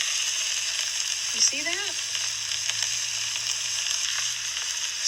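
Food frying in oil in a pan gives a steady, close hiss and crackle throughout, and a person speaks briefly over the sizzle.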